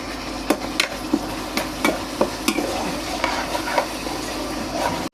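Tamarind pulp simmering down in a pan for temple-style pulihora, a steady bubbling sizzle with regular spoon taps and scrapes roughly every half second, close and with no one talking.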